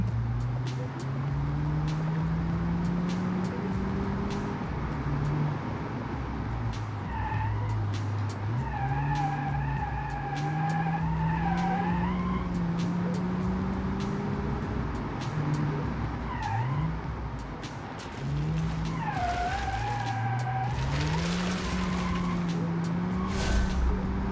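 Tires squeal and skid repeatedly as a car, resembling a GTI, slides through handbrake turns in BeamNG.Drive, its engine droning loudly and pitching up and down throughout, with a brief voice in places.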